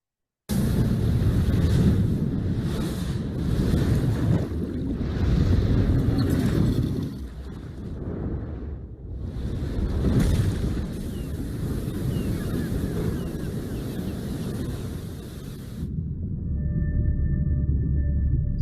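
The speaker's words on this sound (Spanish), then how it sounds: "De cómo podría haber llegado a haber sido el cierre del Mar Rojo contra los egipcios" The Red Sea's waters surge closed over the pursuing Egyptian army, a loud, continuous roar of rushing water and wind with heavy rumbling swells that briefly dip and build again before ending in a faint, steady tone; no voices.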